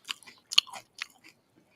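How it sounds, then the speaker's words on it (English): Crunchy Rice Krispies, crispy rice cereal with milk and a little sugar, chewed close to the mic in a few short crisp bites separated by brief pauses, quiet surroundings. "I'm eating Rice Krispies, a crispy rice cereal with a little bit of sugar and milk."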